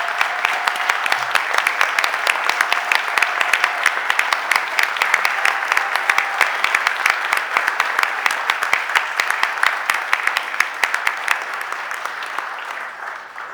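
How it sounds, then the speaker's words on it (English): Sustained applause fills a Philadelphia City Council chamber during a stated meeting, many hands clapping densely and evenly for over ten seconds, loud and close with no voices over it. "Let's give him a round of applause."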